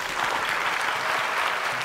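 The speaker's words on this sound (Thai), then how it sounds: "ขอเสียงปรบมือให้กำลังใจน้องจุนนะครับ" A studio audience on a Thai game show claps in a dense, sustained burst of applause that holds steady throughout, with no speech over it.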